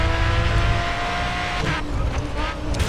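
A race car skids and crashes in the Grid Autosport racing game, with a loud engine roar, tire squeal and a few sharp impact bursts over three seconds.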